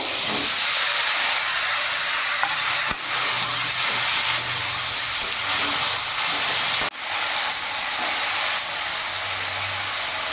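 Pumpkin, potato and drumstick pieces go into hot oil tempered with nigella seeds in a pan for prawns, giving a loud, steady, close sizzling hiss with slight dips as pieces are added.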